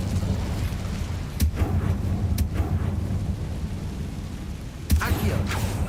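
Incendio fire spell cast in Hogwarts Legacy, heard as a few sharp bursts over a low, steady rumble, with the loudest blast near the end.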